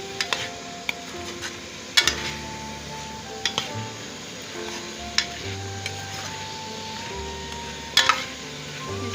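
Cauliflower and potato fry in a pan for aloo gobi sabzi, with a steady low sizzle and occasional sharp clinks of a spoon stirring against the pan, heard close with no talking.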